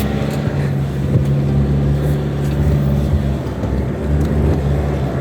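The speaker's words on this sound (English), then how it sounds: "This is Fricky's 4x4, and we're about to go up a nice little obstacle now." A 4x4 engine labours up an off-road obstacle, producing a steady, loud, close low drone with slight rises in revs and no voices over it.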